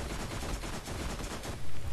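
Rapid automatic gunfire from the Borderlands video game rattles out in a fast, steady stream of close, loud shots, briefly swelling louder near the end.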